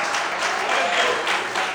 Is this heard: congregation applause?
yes